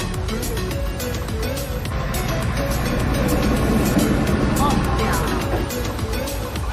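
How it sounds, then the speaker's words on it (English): A tractor engine straining as it tries to tow a car out of a deep ditch, a loud, continuous low rumble that swells louder in the middle and holds through to the end. "A failed attempt of a tractor driver to tow a car that has fallen into a deep ditch."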